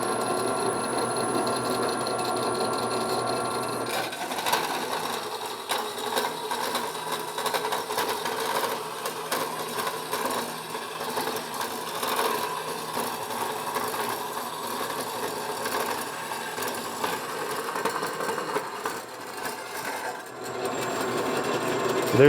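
A vertical bandsaw cuts a piece for a welding cart, giving a steady, continuous mechanical whine that runs the whole time and shifts in tone early on, with no voices.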